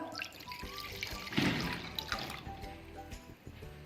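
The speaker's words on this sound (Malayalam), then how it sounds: "ഒരു ബൗളിലോട്ടേക്ക് 1 കപ്പ് പാൽ ഒഴിച്ചു കൊടുക്കാം" A cup of milk poured into a bowl for a red velvet milk cake, giving a soft, steady liquid trickle with a brief louder gush partway through, close and alone.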